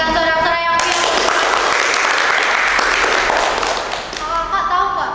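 A crowd applauding and cheering at an online Sunday school session, dense sustained clapping that starts abruptly after a brief voice and fades near the end.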